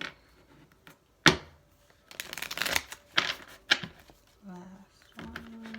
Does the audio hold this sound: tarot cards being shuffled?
yes